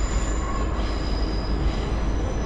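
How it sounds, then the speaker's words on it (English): South Western Railway class 444 unit 444044 on the 1200 service from Winchester to Poole, rolling into Eastleigh station in Hampshire with a steady loud rumble, continuous wheel squeal and rail noise throughout, no talk. "just pulling in now is going to be the 1200 South Western Railway service to Poole"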